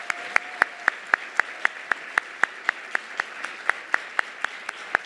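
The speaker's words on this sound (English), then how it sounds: "Can we hear another round of applause" A lone pair of hands claps slowly and evenly, about four claps per second, close and distinct, during applause for a teacher at a teaching awards ceremony.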